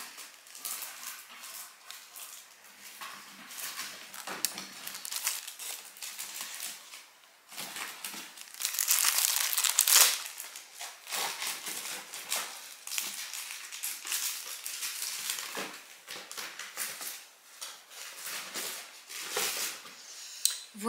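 Aluminium foil and plastic bin bags crinkle and rustle in bursts of crisp crackling, close by and fairly quiet, with short pauses between handlings.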